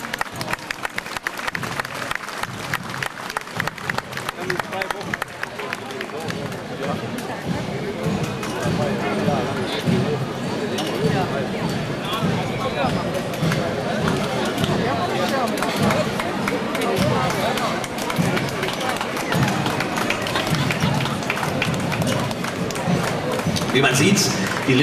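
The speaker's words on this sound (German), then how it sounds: "auch das ist einen herzlichen Applaus wert." Steady crowd clapping at the 2008 Ratingen shooting festival greets a marching formation from Lindorf. Dense clapping carries on without a break for about twenty-five seconds, mixed with crowd babble and an announcer talking over it.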